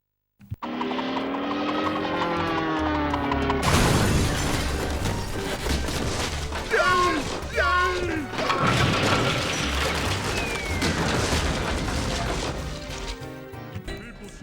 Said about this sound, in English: And there you go, a big old explosion.